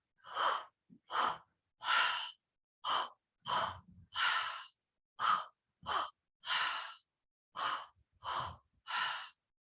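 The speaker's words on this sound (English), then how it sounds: "Inhale into the belly, inhale into the chest, exhale." Slow deep breathing in a guided relaxation exercise: about a dozen close, distinct breaths in a steady rhythm, airy inhales into the belly and chest alternating with soft exhales, each separated by brief silence, with no talking.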